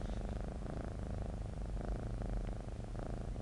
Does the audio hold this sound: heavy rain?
no